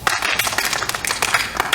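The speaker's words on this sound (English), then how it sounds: "Okay, give her a hand clap." An audience at a summer camp finale claps in a brief, dense burst of close applause.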